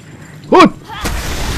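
A single sharp gunshot in the Destiny video game, a short loud crack followed by a second softer burst and a lingering rumble, with no one talking.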